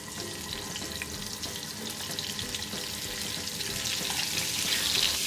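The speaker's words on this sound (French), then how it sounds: "on dépose les Saint-Jacques" Scallops searing in melted butter in a pan, a continuous hissing sizzle that stays steady and close and rises slightly toward the end, no talking.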